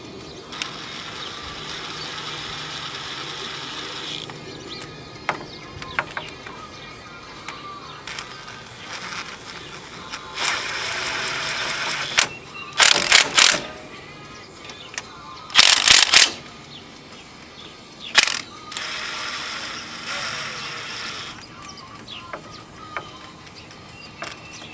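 An impact wrench running down the carrier bolts on a Jeep Dana 30 axle in a garage, fired in several short, loud rattling bursts separated by quiet pauses and softer clinks of tools and parts.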